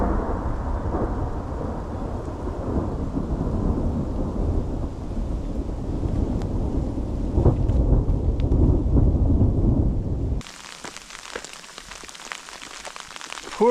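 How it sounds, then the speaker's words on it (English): A thunderstorm with pouring rain on a trekking route in Crete: a dense, loud roar of heavy rain with low rumbling thunder, then an abrupt cut to a thinner, quieter rain hiss. "Pouring down rain."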